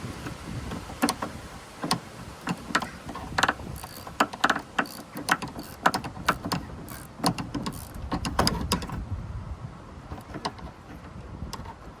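Ratchet working a bolt loose on the rear bumper of a 2007 Mazda MPV, a run of quick, irregular metallic clicks and ticks up close, with some rustling in between.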